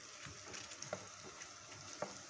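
Eggplant slices fry quietly in oil, a faint, soft sizzle with scattered small crackles and pops across a few seconds.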